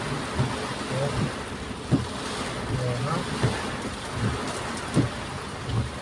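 Heavy rain falls over a flooded road in traffic in Baguio and Benguet, a constant close hiss filling the whole stretch, with faint muffled voices and soft knocks rising briefly above it now and then.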